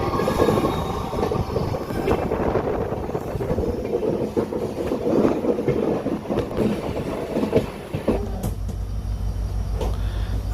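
Kolkata–Sairang Express rolling along with steady rumble, rhythmic clickety-clack and wheel squeal, then slowing to a halt at a small station, leaving a quieter idling hum.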